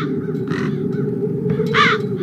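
Crows in the video game Chains of Satinav give two or three harsh caws over a steady low background drone, loud and close.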